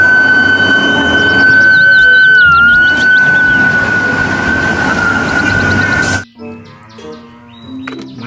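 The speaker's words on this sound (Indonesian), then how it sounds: "ini mobil pemadam kebakaran" A toy fire engine plays an electronic siren tone, loud and close, holding a steady pitch with a brief wobble before cutting off abruptly, followed by quieter voices talking.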